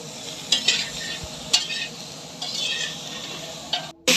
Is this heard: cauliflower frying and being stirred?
yes